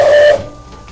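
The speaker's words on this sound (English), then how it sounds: "this is the whistle. The whistle works when I pull this handle." A cartoon steam locomotive whistle gives a short, steady, piercing blast, cut off quickly with a hiss of steam trailing away.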